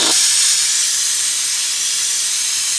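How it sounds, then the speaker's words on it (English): Loud, continuous hiss of compressed air from an air compressor hose forcing oil down a line during a Yamaha WaveRunner oil change, starting with a brief low burst and then holding a steady rush without speech. "I'm going to turn the air compressor on to take care of the lost pressure as it fills"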